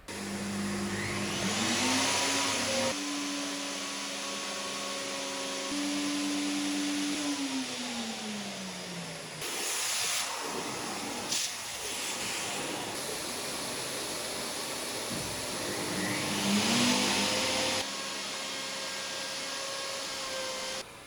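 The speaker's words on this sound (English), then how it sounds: "A few steady passes with the router and the jig just does its thing." A wood router makes steady passes along a jig on a workbench, a loud high whine that drops in pitch under load, spins down, then starts again for a second run.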